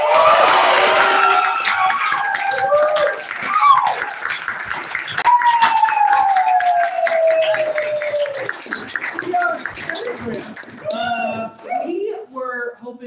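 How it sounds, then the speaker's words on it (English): An audience greets the improv group Stereogram at a Providence Improv Guild show with applause and cheering, which fades as a voice starts talking. Speech carries most of the rest of the stretch, with scattered crowd noise beneath it. "Please give a warm round of applause to Stereogram!"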